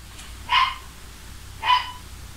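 A dog barks twice indoors, two short separate barks spaced about a second apart, moderately loud over quiet room noise.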